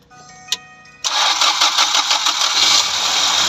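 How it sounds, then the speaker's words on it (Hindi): A car with a 16-valve engine, just repaired after repeated timing belt breakage, cranks briefly after a click, then catches suddenly and settles into a loud, steady idle close by. "ये देखें हमारी गाड़ी अब स्टार्ट हो गई है"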